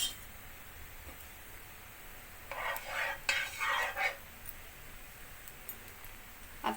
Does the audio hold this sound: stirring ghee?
yes